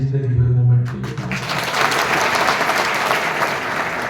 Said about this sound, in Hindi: तालियां मत बजा।